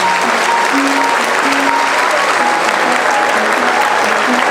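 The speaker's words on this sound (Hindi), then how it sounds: "उस माता को प्रणाम करते हुए तालियों से उनका स्वागत करते हैं" A large crowd at a three-generation Jain diksha ceremony in Davangere applauds to welcome a mother, a loud, sustained, even wall of clapping throughout.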